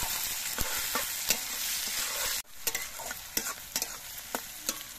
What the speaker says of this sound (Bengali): এবার পেঁয়াজটা দিয়েও কিছুক্ষণ ভেজে নিতে হবে।